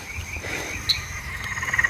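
Several eastern dwarf tree frogs, also known as eastern sedge frogs, call at night in a steady chorus. A faster run of pulsed calls builds toward the end, with no talking over it.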